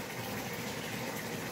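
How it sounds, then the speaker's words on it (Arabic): Water filling a container at home, with a small vessel used to fill a large Coleman cooler. A steady, soft, continuous rush of water runs without talking. "بملى ميه بده"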